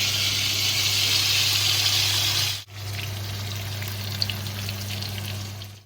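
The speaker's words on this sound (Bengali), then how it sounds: "এবার এই পনিরগুলো একটা একটা করে আমি কড়াইতে দিয়ে দেবো।" Loud, steady frying hiss of paneer pieces in hot oil in a kadai, close up, with a brief dip midway before the sizzling resumes with small crackles.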